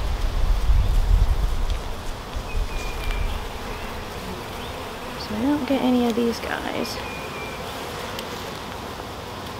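Honeybees from a package being installed into a hive, a close, steady buzzing drone with a few louder passes, while a person talks over it.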